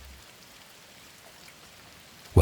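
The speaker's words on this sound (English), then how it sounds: "The rain is still falling in the mountains of Ashina." Steady, soft rain falls in the cold mountains of Ashina, Sekiro: Shadows Die Twice ambience, a continuous even hiss with no voices, ending in a sudden louder burst.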